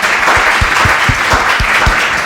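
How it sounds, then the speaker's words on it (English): Audience clapping at a data literacy and AI teaching summit, a steady broadband wash of many hands with a few louder close claps standing out, sustained throughout. "Let's applaud to the speakers."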